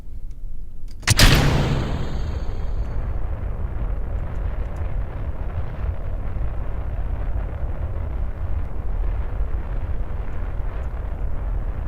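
A cruise missile launch test in Kerbal Space Program: a sharp loud ignition blast gives way to a sustained, steady roaring rocket rumble that continues unchanged to the end.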